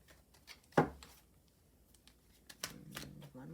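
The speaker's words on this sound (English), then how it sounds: "And we're going to do one more shuffle." A tarot card deck is riffled and shuffled nearby, a sharp flutter followed by softer shuffling, with a quiet voice briefly in the background.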